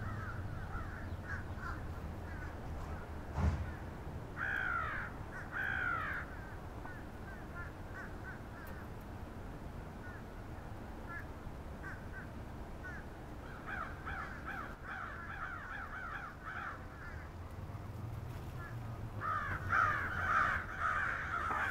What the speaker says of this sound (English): American crows feeding on an abundant stock of juniper, of red cedar